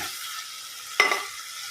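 A whole fish fries with ginger in a pan, giving off a faint, steady sizzle. Partway through, a short stirring clatter rises briefly, then fades back into the quiet hiss.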